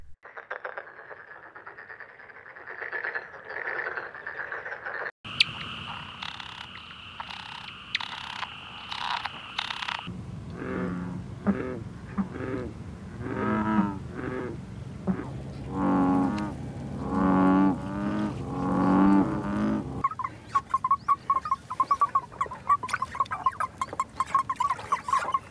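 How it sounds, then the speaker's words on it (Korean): Recorded calls of Korean frogs play in several distinct segments: rhythmic pulsing croaks, then dense overlapping trills and chorusing, then rapid clicking calls, all fairly close and clear without speech. "김현태 선생이 기록한 우리나라 개구리들의 소리 한번 들어볼까요?"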